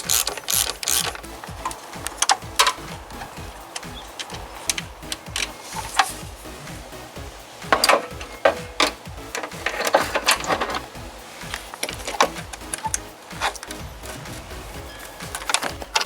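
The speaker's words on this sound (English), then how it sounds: "We'll get the bolt loose and remove it now." Ratchet and socket working a bolt loose on a Kia Forte, a rapid clicking pawl ticking in short uneven bursts across the whole stretch, close and fairly quiet with no talk.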